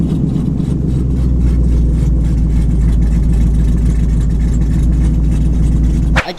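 A drag car with a big cam and stock converter idles loudly and close, a heavy, lumpy, continuous rumble throbbing steadily for several seconds before it cuts off abruptly.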